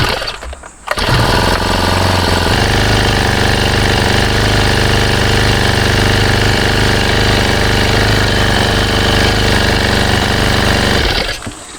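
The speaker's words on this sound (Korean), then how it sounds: "아이들링 상태입니다." A brush cutter engine idles loudly and close by, set on a bucket, its steady rattling, knocking drone starting abruptly and holding constant for about ten seconds before cutting off.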